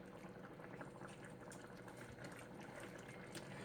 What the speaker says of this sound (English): Lower your flame to medium and let it simmer so the potatoes and carrots can cook through